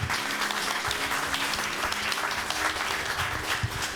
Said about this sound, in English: a big applause once more